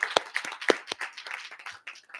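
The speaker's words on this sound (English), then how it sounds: "we'll give them a round of applause real quick" Scattered hand claps at a school board public session, a small audience applauding the school's fall sports teams with a few uneven, close claps that fade over about two seconds.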